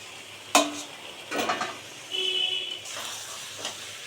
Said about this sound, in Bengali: এবার এর মধ্যে ভেজে রাখা পটল দিয়েও খানিকক্ষণ কষাবো।